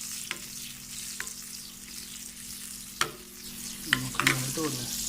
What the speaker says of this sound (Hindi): ये देखिए माशाल्लाह तड़का लगाना है